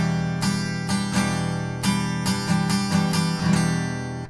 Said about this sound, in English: Playing with a tight grip sounds like this.